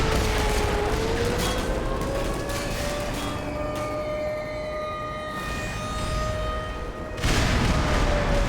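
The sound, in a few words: airstrike explosions in the video game Half-Life: Black Mesa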